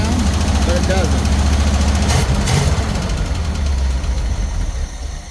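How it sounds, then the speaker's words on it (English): A Jeep engine idles close by with a steady rumble and a light, rapid valve tick running through it, a brief voice over the start. "you can hear that knockety tickety sound"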